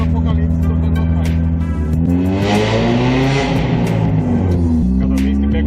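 A Celta GSi small car's exhaust roars loudly as it accelerates, the note rising and falling through gear changes, with some voices faintly underneath.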